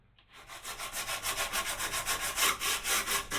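A sanding block is scrubbed back and forth by hand over wood in a shop, giving a steady run of quick, close, raspy strokes that grows slightly louder after a brief quiet start, with no one speaking.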